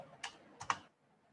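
Two or three quick, close keystrokes on a computer keyboard, with the last tap sounding like the enter key, followed by quiet.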